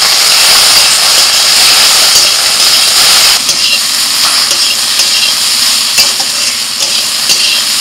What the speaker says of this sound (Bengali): ঢেঁড়সটাকে একটু ভালো করে ভেজে নিয়ে